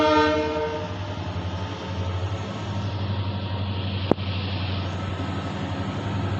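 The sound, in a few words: train 11311 Solapur Hassan Express arriving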